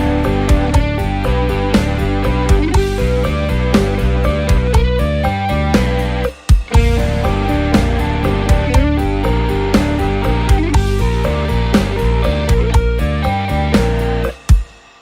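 Electric guitar picks a triad exercise with steady alternate picking, a continuous run of quick, evenly spaced notes played cleanly and loud throughout, with one brief pause midway.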